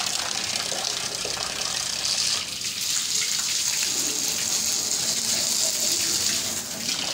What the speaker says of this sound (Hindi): ये 60 फिट की बोरिंग है जहाँ से हम पानी खींच रहे हैं।